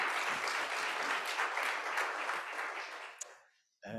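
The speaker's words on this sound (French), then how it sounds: "Un applaudissement." An audience at a panel discussion on sport claps in a dense, steady round of applause that fades out after about three seconds. A voice starts speaking just at the end.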